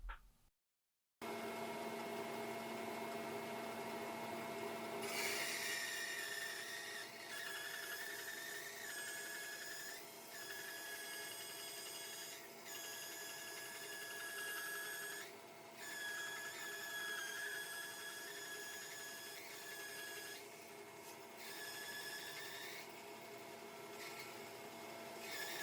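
A saw resaws dense wood boards fed slowly through the blade, producing a long, steady whining drone with a fairly constant pitch that dips and wavers slightly as the wood is pushed through; it is moderately quiet and continuous.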